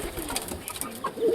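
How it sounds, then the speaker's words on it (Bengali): Pigeons coo inside a home pigeon coop, a few soft throaty calls rising and falling close by over a low background murmur. "আমার কবুতরের ঘর, আমার কবুতরও বেশিরভাগ 2-3 জোড়া কেনা।"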